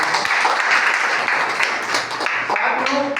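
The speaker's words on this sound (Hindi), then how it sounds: "जोरदार तालियां मैडम।" Audience applause at a Hindi-language online business seminar, a sustained rippling clatter of many hands clapping at once, loud and continuous with small swells.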